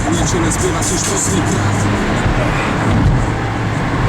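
A car engine keeps running as a low steady rumble inside the vehicle, with traffic noise around it and a voice heard over it.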